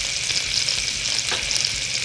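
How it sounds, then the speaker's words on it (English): Beef silver skin sizzles in a hot pan, a steady, close, crackling hiss that holds evenly throughout. "Hearing that sound, seeing how it's sizzling well"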